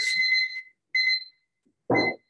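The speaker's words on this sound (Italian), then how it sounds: "mi sono messo la sveglia perché dobbiamo prendere il caffè" An alarm clock rings in three short, separate bursts of bright, close beeping with pauses in between. The last burst is rougher and noisier than the first two.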